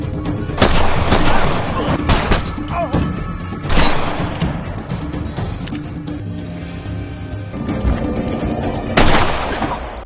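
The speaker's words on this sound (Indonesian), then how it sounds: "tiba-tiba Mui dan Big telah sampai di sana yang kemudian menembaki para polisi itu." Bursts of gunfire ring out in an action film shootout with police, sharp loud shots and volleys over dense music and background effects, with a pause in the middle before more firing.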